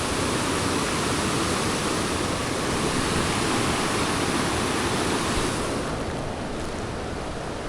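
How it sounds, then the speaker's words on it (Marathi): Floodwater rushes through a stream in the Konkan after heavy monsoon rain, a loud, steady, broadband roar of torrent that fills the whole stretch without pause. "जबरदस्त पाणी आलं हे बघा, कसलं खतरनाक पाणी आलं आहे."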